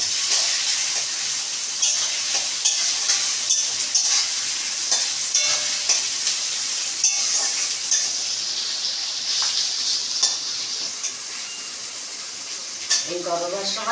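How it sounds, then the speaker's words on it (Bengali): Prawns frying with snake gourd, onion and green chillies in a pan, a steady close sizzle with repeated stirring scrapes throughout and a louder clatter near the end. "এর মধ্যেই আমি চিংড়ি মাছটা দিয়ে দেবো।"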